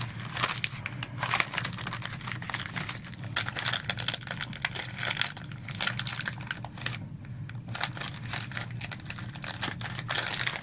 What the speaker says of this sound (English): And we'll open up this blind bag.